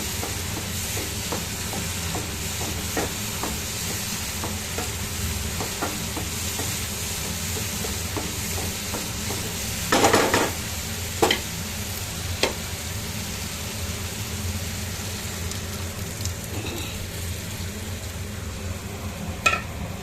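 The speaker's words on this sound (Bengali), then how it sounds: "এবার মটরটা দিয়ে দেবো, কারণ তেল বেরিয়ে গেছে।" Green peas frying in spiced oil for ghugni, giving a steady, close sizzle throughout with occasional sharp clinks of a stirring spoon against the pan.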